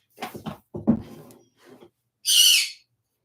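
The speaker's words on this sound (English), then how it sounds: "I think there was a bird outside" A bird calls outside in a single short, bright, breathy burst lasting about half a second. It comes after a few soft, murmured sounds and stands out alone in otherwise quiet surroundings.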